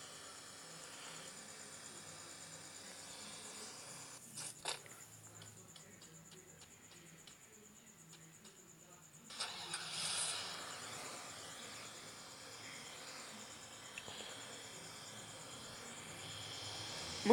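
Crickets chirping steadily in the background, a faint continuous high trill with a short stretch of rapid pulsed chirps in the middle.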